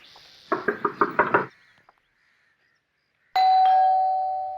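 Six quick, firm knocks rap on a door in a run of about a second, followed by silence and then a ringing doorbell tone that sustains and fades.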